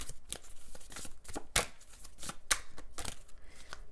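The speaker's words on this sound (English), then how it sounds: "I'm going to shuffle some fairy oracle cards for you" A deck of fairy oracle cards is shuffled by hand close up, giving a run of crisp riffling and flicking bursts with irregular sharp snaps and no voices.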